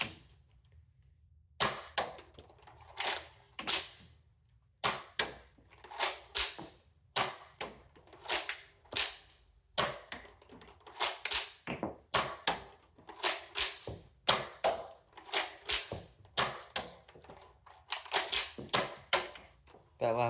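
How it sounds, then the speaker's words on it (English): A Nerf AR-15 toy blaster fires round after round, ejecting shells with each shot. The sharp plastic pops and clacks come in an uneven but steady string of about thirty close, loud shots. "I'm just gonna be shooting straight down, trying to get the shells to eject in your face."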